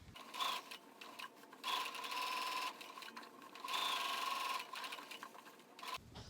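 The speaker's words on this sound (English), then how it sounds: "next I'll just sew down the sides of my stitch line" Close, moderately quiet whirr of a sewing machine stitching down the sides of a fabric drawstring bag, running in short steady bursts with faint mechanical ticks and brief pauses.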